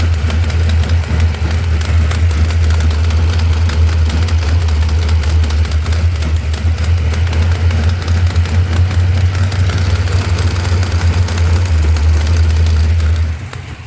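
Truck engine idling steadily with a driver's side exhaust header leak, a loud, continuous low rumble that holds even throughout with no talking.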